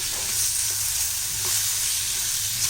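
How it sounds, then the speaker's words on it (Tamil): Onion and tomato frying for thokku with chili powder and turmeric powder added, producing a steady, close, even sizzle that continues without a break and with no voices. "இது மிளகா பொடி மஞ்சள் பொடிலாம் போட்டு இது நல்லா நம்ம வதக்கிட்டோம்"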